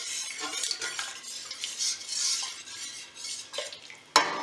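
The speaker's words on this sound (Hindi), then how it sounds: "स्लो आँच के ऊपर मैं इसे पहले मिक्स करूंगी" A spoon scrapes and stirs mushroom soup with stock in a pan over low heat, a soft continuous rhythmic stirring with faint sizzle, ending in a sharp metallic clink.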